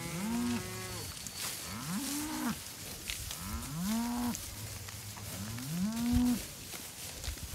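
A cow moos four times in a row near a virtual fence, drawn-out low calls spaced a second or so apart, fairly close by.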